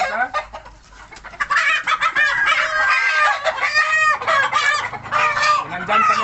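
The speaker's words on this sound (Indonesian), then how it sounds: "Nah, ini jantan kita." A free-range village rooster crows loudly nearby in a wooden breeding coop, mixed with repeated clucking from laying hens, with a faint voice briefly in the background.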